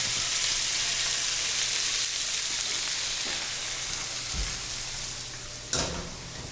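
Vegetables and salmon sizzle steadily in a hot pan, a close, continuous frying hiss with a couple of light clinks near the end.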